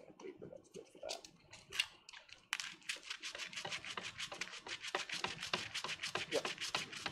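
Hand sanding with sandpaper on a Death Trooper armor piece, a steady run of close, scratchy rubbing strokes with brief pauses and some handling noise.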